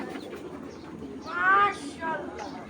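Bagha pigeons coo in low, throaty bursts near at hand, with a louder rolling coo in the middle over faint background noise and a brief voice.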